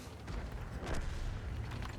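A single deep, booming tank cannon shot in a video game, the VK 72.01 K, with a sharp burst and rumbling low end, loud and close, over steady background noise.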